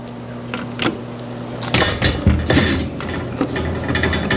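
A screwdriver drives tiny machine screws into a fingerprint keypad door lock, giving close metallic clicks and ratcheting scrapes with brief knocks and rattles, loud and near, and no talking.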